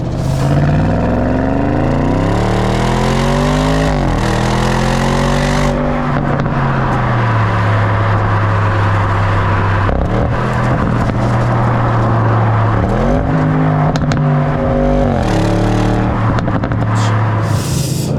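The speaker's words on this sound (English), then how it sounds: "And the engine as well. Oh, the pops, the burbles, the grunt." Audi RS7 Performance 4-litre twin-turbo V8 revving hard and loud, with rising and falling engine tones through gear changes and a deep, steady grunt close by.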